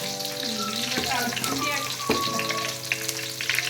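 Onions fry in a pan for fish curry, making a loud, continuous sizzle with a couple of sharp clatters. A faint voice-like murmur sounds briefly in the background.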